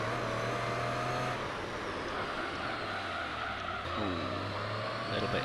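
Car tyres skidding under heavy braking in Gran Turismo 3, a steady engine drone with a sustained tyre squeal running under it, loud and continuous, with no talking.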